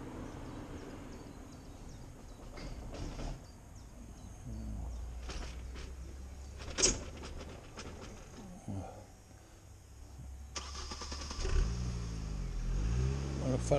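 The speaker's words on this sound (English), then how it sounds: "So now I've got a motor car coming." A motor car approaching and passing on a country road during a morning drive with a cob horse, a low engine rumble building then fading, with someone talking over it.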